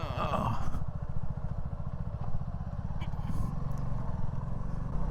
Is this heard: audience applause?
no